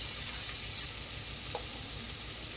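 Onion and tomato fry in oil in a pan for dal khichdi, a quiet, continuous sizzle with one brief stir or clink partway through and no talking.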